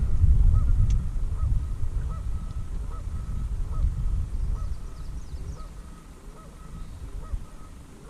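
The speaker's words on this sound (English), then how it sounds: "Or at least the geese are laughing." Geese honk repeatedly in the distance at Herring Lakes over a low rumbling background, their calls coming in scattered bursts.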